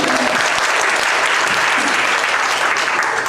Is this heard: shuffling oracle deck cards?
no